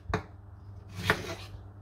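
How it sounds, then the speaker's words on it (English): Knife strokes cutting a tomato on a board, two distinct sharp chops about a second apart, close and fairly quiet, with no talk. "we're gonna try to chop it as small as possible"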